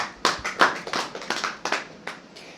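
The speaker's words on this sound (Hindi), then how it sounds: "जोरदार तालियों से आप स्वागत करें।" Sparse applause at a memorial seminar on a death anniversary, a handful of separate, fairly close claps in an uneven rhythm that thin out toward the end.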